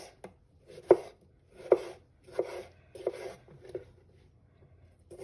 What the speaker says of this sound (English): So now let's go ahead and cut our cucumbers.